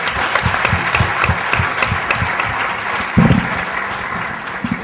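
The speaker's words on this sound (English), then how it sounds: "Please give Natasha Eubanks a big round of applause." Audience applause welcoming Natasha Eubanks at a panel event, a steady, dense wash of clapping that fills the room throughout, with a slightly louder burst midway.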